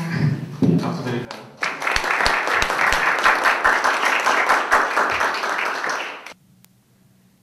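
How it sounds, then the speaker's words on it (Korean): An audience at a Korean student election candidates' public hearing breaks into steady applause, dense clapping sustained for about five seconds after a brief spoken prompt, then stopping abruptly into near silence. "박수 드릴까요?"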